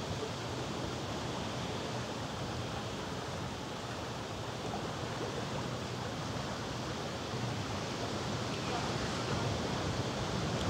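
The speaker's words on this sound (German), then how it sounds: "was ist denn das für ein Wind?" Wind rushes across the open deck of the AIDAprima cruise ship leaving Hamburg, a loud, steady broadband roar buffeting the microphone for the whole stretch without letup.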